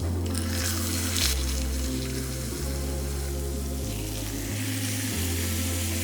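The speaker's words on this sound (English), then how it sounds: "I'm just gonna add a little bit of oil to a hot pan." Hot oil sizzling in a pan before steaks go in, a steady faint crackle under music with a repeating bass line, no voices.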